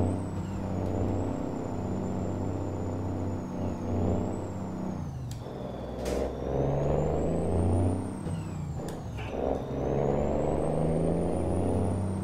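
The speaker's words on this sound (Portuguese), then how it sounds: "O giro dele corta em 2000. mil. Pode acelerar o tanto que for, não passa disso não" An International Workstar truck in Euro Truck Simulator 2 holds its engine at the rev limiter, a loud, steady droning roar that never climbs higher, with a couple of sharp air hisses partway through.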